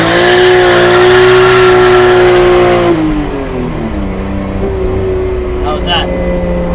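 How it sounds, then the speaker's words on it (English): A stick-shift drift car's engine revs loudly and holds a high strained note, then drops in pitch as the car slides into a drift, close to the microphone. Occupants speak over the engine. "Then you're gonna love drifting."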